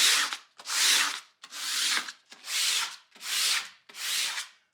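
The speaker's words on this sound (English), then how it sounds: "So I'm just scuffing up the parts where the adhesive is going to stick." Sandpaper scuffs Jeep Wrangler panels by hand, six rhythmic back-and-forth strokes separated by short pauses, close and dry-sounding with no voices.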